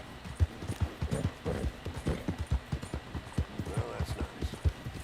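Video game horse hooves from Red Dead Redemption 2 clip-clop in a quick, steady galloping rhythm, close and distinct, with a voice speaking over them at times.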